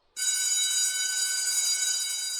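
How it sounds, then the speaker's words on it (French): An electric school bell rings to end recess, a bright continuous metallic ring that starts abruptly and holds at a steady, loud level with nothing else heard. "Puis la sonnerie de fin de récréation retentit."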